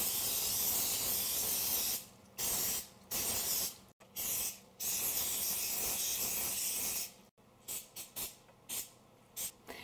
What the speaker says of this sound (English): spray them liberally with some nonstick spray